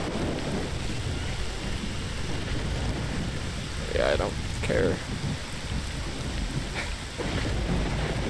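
Rain and thunder in the video game S.T.A.L.K.E.R.: Shadow of Chernobyl, a loud steady downpour with low rumbling throughout, while someone speaks briefly over it.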